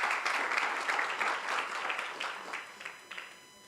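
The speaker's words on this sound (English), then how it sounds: "So I think that deserves an applaud." Applause breaks out in a medical conference hall of the Kenya Association of Muslim Medical Professionals, a moderate crowd clapping steadily and fading slightly toward the end.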